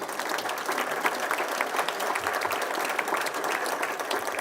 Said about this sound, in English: So I'd like to have a round of applause for you.